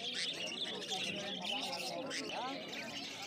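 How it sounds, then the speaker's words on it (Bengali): Budgerigars chirp and squawk in dense, overlapping bursts at a crowded bird market, with chatter and babble from people mixed in throughout. "তো এখানে প্রচুর বদ্যি পাখি রয়েছে দেখতে পাচ্ছ"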